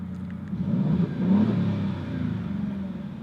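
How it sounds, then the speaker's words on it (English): A 2024 Alfa Romeo Giulia Quadrifoglio in dynamic mode, exhaust baffles open, revs up: a deep throbbing engine note swells near the middle and then settles to a steady rumble, close by and heard on its own. "you can put it in dynamic and it opens up the baffles and the exhaust and makes it a little bit louder"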